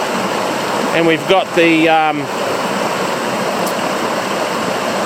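Rushing river water pours around a big rock and a log obstruction in a bush creek, a loud, steady broadband wash throughout, with someone briefly speaking over it near the start.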